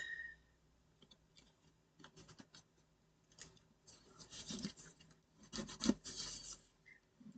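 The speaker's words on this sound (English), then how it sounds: "A little bit of burnishing." Folded paper for a handmade photo book is burnished by hand, producing faint, close rubbing and rasping strokes in irregular bursts, with quiet gaps between.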